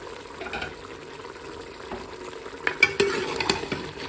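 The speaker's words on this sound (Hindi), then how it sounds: "अब इसकी हम 10 मिनट भुनाई कर लेंगे।" Beef frying in a pot with whole garlic and onion for a white degi-style dish, giving a steady close sizzle that grows busier near the end with clattering stirring scrapes; no one talks.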